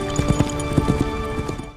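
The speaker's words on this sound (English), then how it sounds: "This is Mama's horse." Horse hooves clip-clop in a quick, uneven series of close knocks over a tonal background hum, with several clustered strikes then a fading tail.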